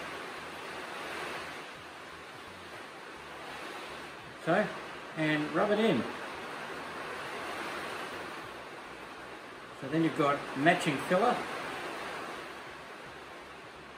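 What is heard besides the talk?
stormy rain falling on the roof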